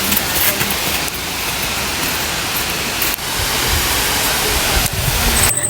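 Rushing water at Nadsadjan Falls, a loud, dense, continuous roar with a few brief dips and no talk.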